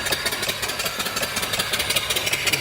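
A live mill steam engine off-grid runs steadily, its exhaust piped up the boiler stack, giving a close, loud, rhythmic chuffing with regular rapid beats and mechanical clatter throughout.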